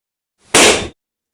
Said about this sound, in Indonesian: contohnya bunyi balon meletus.